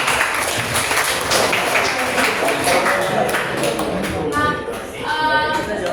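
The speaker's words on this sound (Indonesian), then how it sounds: "Beri tepuk tangan untuk kelompok" Classroom applause for a student group's presentation, a dense patter of many hands clapping at close range, mixed with chatter and a few scattered voices, thinning briefly before picking up again.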